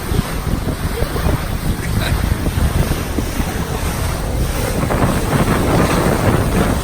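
A tour boat cruises across West Lake Okoboji, with steady engine and water rush under heavy, continuous wind buffeting the microphone throughout.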